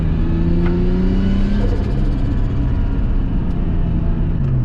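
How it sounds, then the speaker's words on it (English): Tuned R33 Nissan Skyline turbo engine revving hard and spooling up, a loud, steady rumble with rising pitch sweeps and turbo whine, close by with no talking. "I can feel that the turbo is spooling up a lot better"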